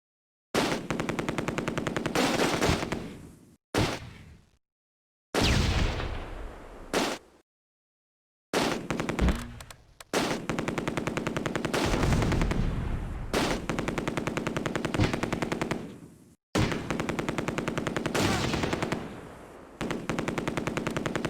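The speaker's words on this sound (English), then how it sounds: "Alright, light machine gun. Shoot them. Shoot them." A light machine gun firing in the Close Combat: A Bridge Too Far war game, loud rapid bursts of automatic fire with short pauses between them and brief gaps of silence.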